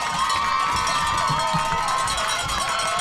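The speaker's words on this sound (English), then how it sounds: "Boy, the fans over here for Huntsville are going nuts" Crowd at a Huntsville Hornets versus Montgomery Bears high school football game roaring late in a close contest, a dense, steady wash of cheering and clapping with faint shouts and a cowbell-like ring over the din.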